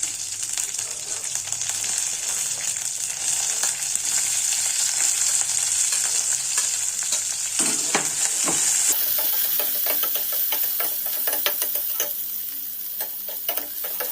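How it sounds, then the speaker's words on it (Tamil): Onions and seven dried red chillies fry in a pan with a loud, continuous hissing sizzle. Stirring scrapes and ticks run through it, and the hiss eases partway through while the clicking spatula work goes on. "வெங்காயத்தையும் இதோடு வறுத்துக்கணும் வரமிளகா ஒரு ஏழு வரமிளகா போட்டுக்கலாங்க"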